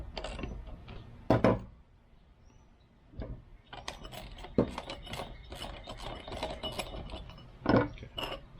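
Nuts on both sides of a step-through suspension seat post clamp being loosened with a ratchet, giving clicking ratchet bursts and metallic turning sounds at close range, with a few louder knocks between.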